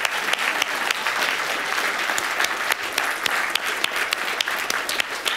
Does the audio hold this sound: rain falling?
no